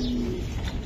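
An ERPCD racing pigeon gives a single soft, low coo up close, with a brief tonal note under a muffled background hum.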